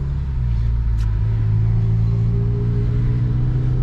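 A manual Volkswagen Golf R engine drones loud and steady while driving up a hillclimb, a continuous low rumble with a brief high tick near the start.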